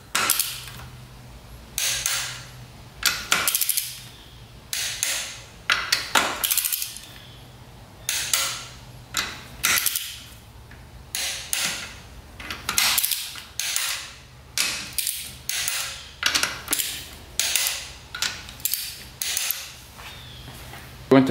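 A torque wrench tightens race quad bolts to 14 foot-pounds. Repeated metallic ratcheting strokes come in steady bursts with short pauses, loud and close, and a voice is heard occasionally.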